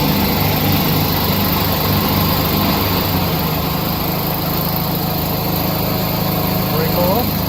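A Simplicity Sunstar lawn tractor engine runs steadily and loud at close range, a constant mechanical drone with people talking over it.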